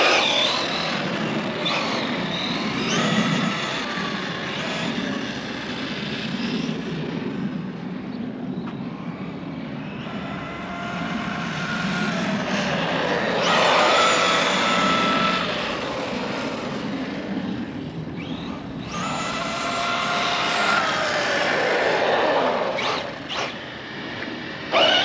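An Arrma Fury RC truck converted to a 2400kV Mojave brushless motor running on a 3S battery, its high-pitched motor whine rising and falling in repeated passes as it accelerates and slows outdoors, loud and near throughout, with no talking.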